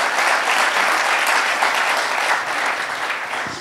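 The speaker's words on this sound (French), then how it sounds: "je pense qu'on peut les applaudir." An audience in Chamonix applauds guests Hubert Védrine and Bruno Tertrais at an evening talk, a thick, continuous wash of clapping that holds at full strength throughout.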